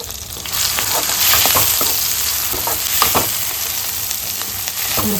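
Onions and masala for a Tamil-style chicken gravy with tomatoes sizzle steadily in a hot pan, a continuous close frying hiss broken by scraping stirs, with no voices.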